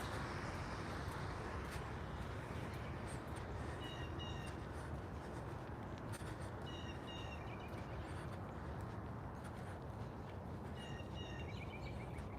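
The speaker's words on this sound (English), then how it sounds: "That's a blue jay chirping." Blue jay chirping in a calm outdoor setting, with several short bursts of high, slightly harsh calls coming in clusters over a constant broadband background rumble, moderately distant.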